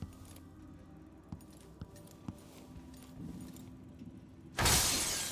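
Objects shatter and break in Dishonored 2 inside a mansion, a few sharp clinks and knocks followed by one loud crash near the end, with no voice heard.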